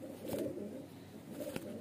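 Young Uday (kasni) highflyer pigeons give soft, steady cooing close at hand, a continuous low murmur with a couple of brief sharper sounds mixed in.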